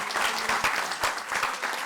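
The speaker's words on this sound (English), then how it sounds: "Let's give them a round of applause." A crowd at an outdoor groundbreaking ceremony for a Cleveland river stabilization project applauds steadily, many hands clapping in a dense, continuous patter that swells and dips slightly throughout.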